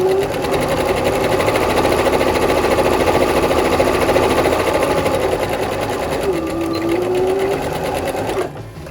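A sewing machine runs steadily for about eight seconds, stitching a fabric face mask, with a fast even whir that stops near the end.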